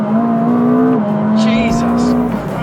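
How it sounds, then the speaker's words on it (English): A high-power Ferrari launches from a standing start under launch control, its engine holding a loud, steady howl with a brief dip in pitch as the car pulls away. "Come to a stop, first gear, engage, launch control, and just hang on tight."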